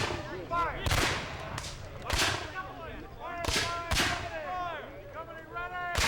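Civil War re-enactment musket volleys crack repeatedly, ragged and overlapping bursts of black-powder fire with shouted commands and talk between shots in an open field.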